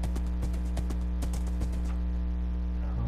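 Horse hooves clip-clop in a Minecraft survival world, a quick series of light, evenly spaced taps that slows and then stops, heard alone over a steady game background hum.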